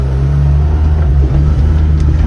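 An old Mitsubishi-built Dodge Ram 50 pickup, abandoned for over a decade, runs loud and close in a yard with a heavy low engine rumble that surges briefly as it revs while moving.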